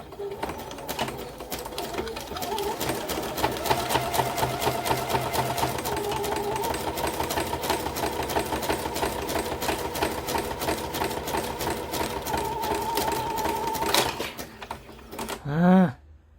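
A sewing machine stitches through paper and wet glue in a fast, steady needle clatter lasting about fourteen seconds, then stops, followed by a short voice.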